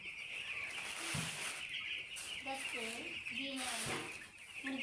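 Broiler chickens, thirteen days old, cluck and chirp in short bursts inside a poultry shed, with a steady mechanical hiss running beneath them.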